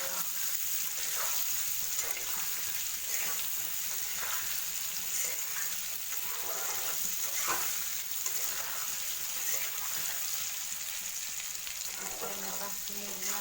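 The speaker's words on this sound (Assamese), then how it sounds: "আলুখিনি ভাজিব লাগিব" Potatoes frying in a pan on a gas stove, giving a steady broadband sizzle throughout with intermittent scraping stir sounds, moderately quiet and without speech.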